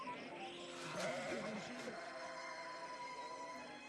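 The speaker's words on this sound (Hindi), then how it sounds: "कुछ चरवाहे रात के समय अपनी भेड़ों की देखभाल कर रहे थे।" Sheep bleat at night in a dramatized pastoral scene, several wavering calls close together in the middle of the clip over a steady background bed.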